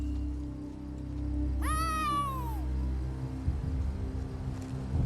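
A single drawn-out cat meow in The Elder Scrolls Online falls in pitch over about a second, heard over a low steady rumble with a faint patter afterward.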